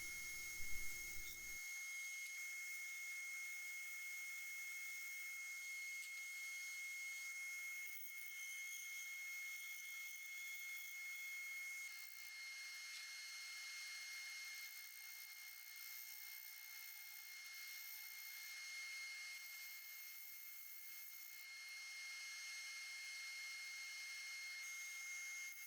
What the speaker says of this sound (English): shear scraping is the answer to do the outside of these bowls